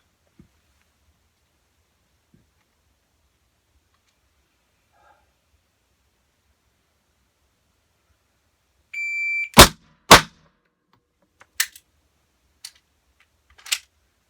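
Handgun shots fired from the low ready, two guns at once, come as a burst of sharp, loud cracks after a long near-silence, two close together and then a few more spaced apart.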